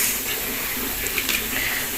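Rice-rinse water pours steadily into a fish curry in an oiled kadai, a continuous close hiss and splash that runs without a break.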